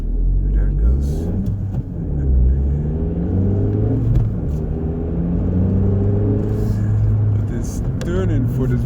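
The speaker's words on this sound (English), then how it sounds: "I think that BMW wants to run a little bit at the traffic lights. And that's a very nice exhaust sound." BMW with a loud exhaust pulling away from traffic lights, a close, deep engine rumble rising and falling in pitch as it accelerates through gears, with a person talking over it.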